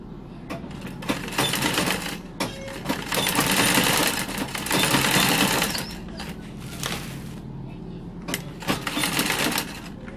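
A sewing machine stitches a rug made from plastic bags with a size 18 needle, running in loud close bursts of rapid mechanical chatter that start and stop, with brief quiet gaps between runs.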